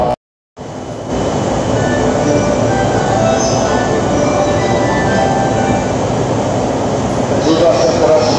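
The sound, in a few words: commuter train at Tokyo Station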